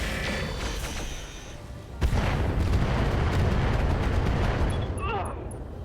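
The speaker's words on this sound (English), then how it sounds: "let's see what the airstrikes look like" Airstrike explosions rain down in the mech combat game RogueTech: a sharp impact lands, then a long rumbling barrage of booms and crackling blasts follows, with a lighter scattered rattle fading toward the end.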